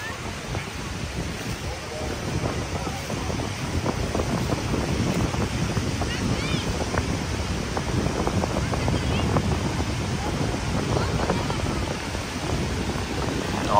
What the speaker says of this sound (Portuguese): Nossa, esse vento